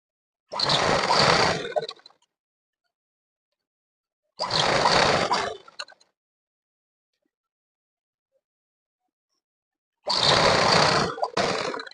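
A sewing machine stitches the folded hem of a school uniform shirt in three separate bursts of loud, close motor whirring, each lasting about a second, with silence between them.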